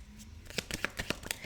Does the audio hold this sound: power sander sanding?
no